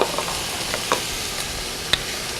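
Meat browning with diced onions in a pan for pot roast, a steady close sizzle with occasional sharp clicks of a utensil against the pan, no talking.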